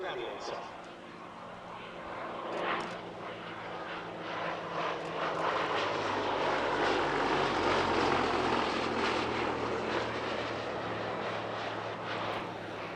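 A Gloster Gladiator biplane fighter flying at the Shuttleworth airshow, its piston engine droning and swelling from far to nearer, a steady low rumble that grows louder midway, heard alone.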